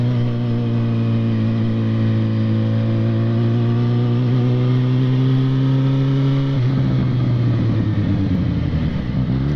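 A Yamaha XJ6 motorcycle rides over speed bumps with a steady, close mid-pitched engine drone that shifts and wavers partway through as the bike passes over the bumps.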